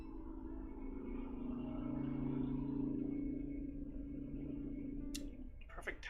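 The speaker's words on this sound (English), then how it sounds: "Perfect timing for loud cars to be going by." Loud cars passing by outdoors, a steady engine rumble swelling and fading over several seconds, with a brief clatter near the end.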